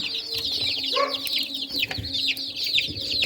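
Young chicks in a warm brooder peep constantly in bright, overlapping chirps, close and busy, with a soft cluck low in the mix and no talking.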